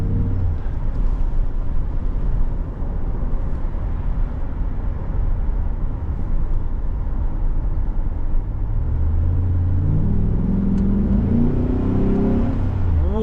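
A 2007 Chevrolet Trailblazer SS with a 6-liter V8 and 4-speed automatic accelerates, giving a deep, continuous engine drone heard from inside, with the pitch climbing as it revs near the end.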